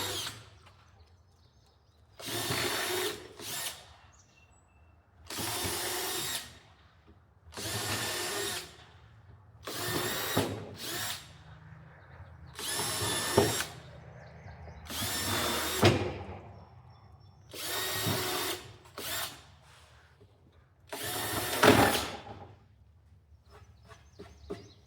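A power drill fitted with a bore bit runs in repeated loud bursts of about a second each, roughly ten in all, separated by short pauses over a low steady background hum.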